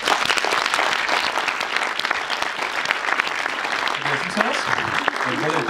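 Audience applause after a pre-film presentation at a NOAH cinema screening, dense sustained clapping from a full room, loud and close, with a voice speaking briefly over it near the end.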